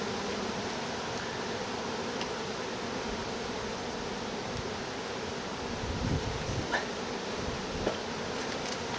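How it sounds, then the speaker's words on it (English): Honeybees buzz steadily nearby at an apiary, a continuous droning hum with occasional louder passes, over faint wind and rustling. "Now there are a few bees on here"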